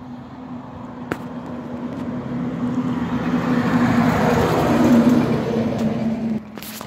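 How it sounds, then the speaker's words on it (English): A 2009 Peterbilt 367 truck rolls by westbound on a road in Blue Lake, California, a steady engine and tire roar that swells to a peak and fades, with a sharp click near the start and no talking. "Also a truck coming westbound at 2009 Peterbilt 367"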